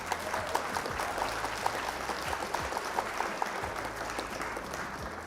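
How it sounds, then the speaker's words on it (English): A small group applauds an opponent after a Flesh and Blood card game match, with faint, even clapping at low level and scattered sharper claps throughout. "round of applause for our opponent here"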